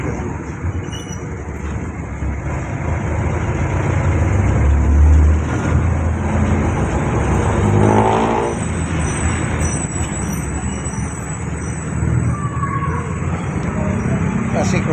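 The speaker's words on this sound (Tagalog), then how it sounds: "Crossing kasi sa highway ito. Maraming mga truck." Busy highway traffic in Tondo, Manila with many trucks passing a jeepney: continuous engine rumble, a loud surge near the middle and a brief brake hiss, with a voice talking faintly underneath.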